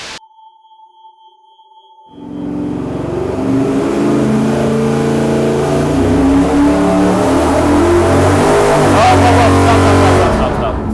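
A supercharged engine on a dyno roars up from near silence after a faint tone, revving hard and climbing steadily in pitch, loud and sustained with a whining edge.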